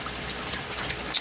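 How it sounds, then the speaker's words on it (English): Distilled water pours steadily into an NFT hydroponic setup, a soft continuous trickle and splash close by with no voices. "So we can go ahead and add this distilled water."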